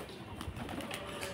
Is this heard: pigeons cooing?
yes